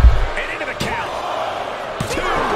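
Two sharp punch impacts land about a second apart in a WWE 2K23 wrestling match, a Superman punch, striking over a steady bed of arena crowd noise.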